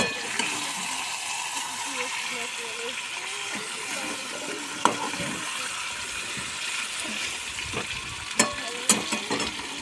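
Fish curry is stirred while it fries and simmers in a pan, giving a low, steady sizzle with a few sharp spoon-against-pan clicks near the end.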